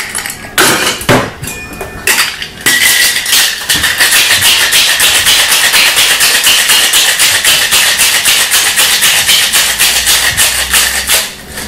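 A cocktail shaker with ice is shaken hard, starting with a few separate knocks and then settling into a long, fast, steady rattling that stays loud and close until the end.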